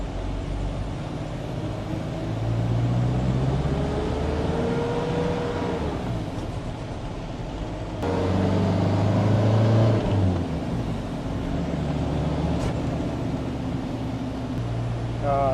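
A van with a swapped-in, remapped 1.9 engine idling and then revving in two swells, a loud, close engine drone rising and falling over about fifteen seconds.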